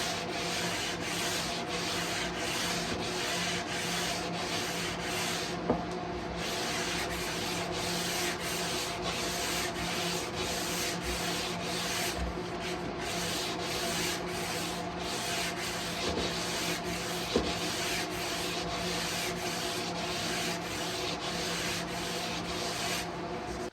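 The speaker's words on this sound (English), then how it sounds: "here's the 220 paper for final sanding" Steady, continuous final sanding of a guitar fretboard with 220-grit sandpaper, a dense scratchy rubbing that runs on without pause, close up, with a couple of faint knocks.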